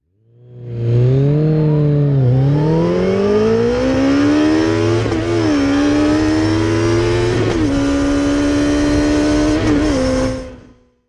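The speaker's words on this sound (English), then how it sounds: "It has a 1441cc 4-cylinder engine that's capable of producing 200 horsepower at base and 154 newton meters of torque." A 2016 Kawasaki ZZR1400 (ZX-14r) sport motorcycle with a 1441cc four-cylinder engine revs up close and loud, its pitch climbing steadily with a few brief dips between gears, alone with no talk.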